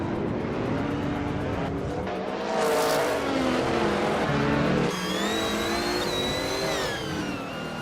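Race cars in a video game roar past continuously with loud, steady engine drone and revving, the pitch rising and shifting as the cars accelerate. A high whine joins in toward the end.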